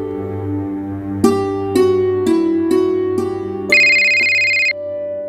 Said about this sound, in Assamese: তই এতিয়া প্ৰকাশলৈ ফোন এটা কৰচোন